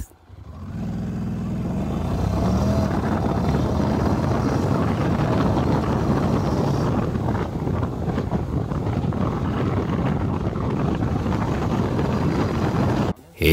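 A Honda NC750X motorcycle accelerates hard in automatic drive mode, its engine roar steady and loud for about twelve seconds under heavy wind buffeting, then cutting off abruptly at the end.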